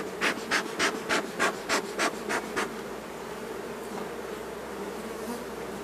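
Honeybees at an open hive, with a run of about nine short buzzing bursts from bees passing close, then a softer steady hum for the rest.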